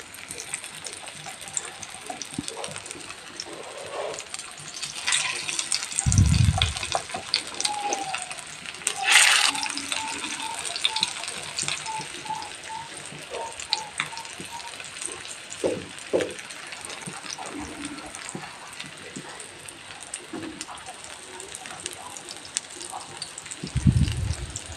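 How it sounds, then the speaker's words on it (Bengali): Beetroot and carrot tikki frying in refined oil on a tawa over medium heat, a steady close sizzle with occasional thumps and scraping clatter from the pan. "তাওয়াতে অল্প রিফাইন্ড অয়েল গরম করে টিক্কিগুলো দিয়ে মিডিয়াম হিটে"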